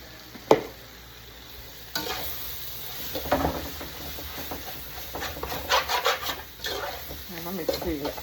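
Beef cutlet mixture stirred in a pan after ground pepper and meat masala go in, giving steady scraping and rubbing strokes with faint sizzling and a sharp clink near the start, close by with no talk.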